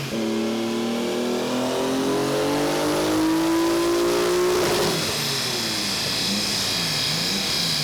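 A modified car revs hard on a dyno at a dyno day, engine note climbing steadily for several seconds, then dropping and fluttering as the throttle is eased off, loud and close throughout.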